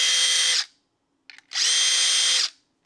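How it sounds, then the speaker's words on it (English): A power drill pre-drilling holes whines at high speed in two bursts, stopping briefly between them, with a small clatter in the pause; close and loud. "So I get the spacing lined up and I just go in and pre-drill."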